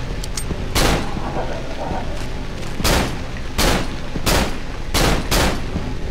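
Gunfire in the horror video game Cry of Fear: six or seven loud, sharp shots spaced irregularly about a second apart, each a broad crack over a constant background hum.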